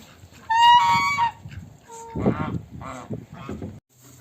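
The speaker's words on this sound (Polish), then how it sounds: "Państwo, państwo gęsi." Geese honk loudly in a burst of overlapping calls, followed by a few shorter honks and cackles nearby.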